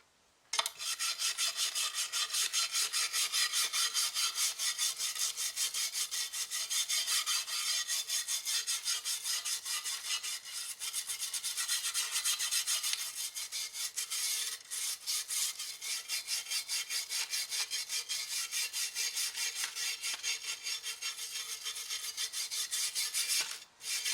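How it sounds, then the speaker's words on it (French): A brush scrubs the wood of a barn door roller in fast, steady back-and-forth strokes, giving a continuous close rasping scratch that lasts over twenty seconds, faint overall and without talk. "Ces derniers coups de brosse et après ça devrait être bon."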